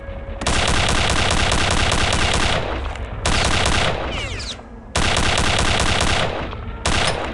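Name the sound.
machine gun fire in Return to Castle Wolfenstein video game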